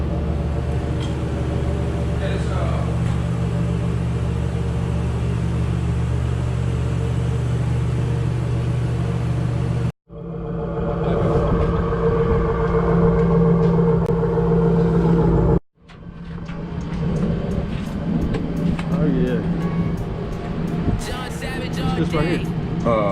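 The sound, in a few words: Malibu's 351 Cleveland V8 engine running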